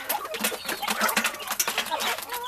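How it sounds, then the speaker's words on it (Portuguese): Young chickens and a rooster on a Brazilian farm, a busy overlapping chorus of cheeps, clucks and chirps nearby with some wing flutters, continuous and fairly loud. "Esses aqui tudo, é os franguinhos, ó. Esse aqui também é um galinho, ó."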